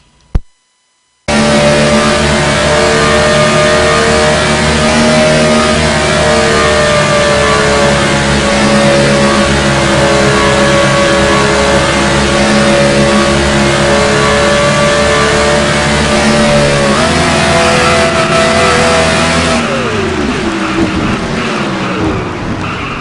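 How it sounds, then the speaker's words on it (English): Loud, continuous roar of a stock car engine heard from inside the cockpit during a race at Las Vegas, holding high revs and then dropping sharply with gear changes near the end. "just listen to the engine noise"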